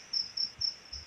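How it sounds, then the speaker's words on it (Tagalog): Crickets chirp steadily at night, four evenly spaced high trills repeating alone against a quiet background, fairly faint. "Gusto ko yung may kuliglig."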